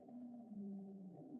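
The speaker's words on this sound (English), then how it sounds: "Julia is a sound recorded on March 1st of 1999 by the U.S. National Oceanic and Atmospheric Administration, NOAA" The Julia underwater sound recorded by NOAA in 1999, a faint low wavering moan with a drawn-out, rising-and-falling whale-like tone.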